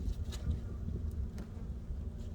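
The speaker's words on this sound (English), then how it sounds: "So, in this one, we yet again have beautiful looking bees." Honeybees buzz steadily in an open hive on a bright day, a continuous low hum with a few sharper fly-bys passing close to the microphone.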